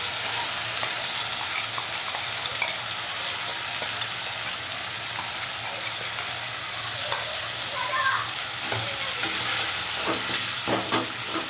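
Masala paste fries with stuffed onions in a pan, giving a steady, close, even sizzle with light crackles and occasional stirring scrapes throughout, no voices.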